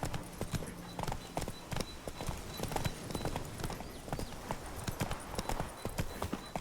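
Roach the horse gallops in The Witcher 3, hooves striking in a quick, steady clip-clop rhythm that sounds close and continuous, with a brief whinny-like note mixed in.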